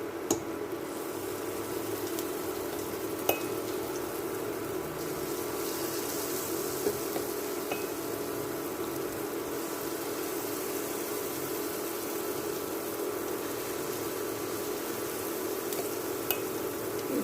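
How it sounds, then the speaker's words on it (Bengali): Dahi vada batter fritters frying in oil on an induction cooker give a continuous, even sizzling hiss that holds steady throughout, with only a few faint clicks. "এইভাবে সব বড়াগুলো ভেজে নেব।"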